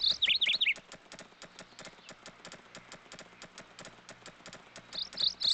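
Hooves clip-clop in a steady, even rhythm from a ridden horse in a horse riding video game at Silver Buckle Stables, moderately loud and continuous, with brief high chirps at the start and end.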